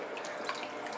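Dry ice bubbling and fizzing in cold water, a steady, dense churning like a boiling pot that holds even in level throughout, fairly close with no voices.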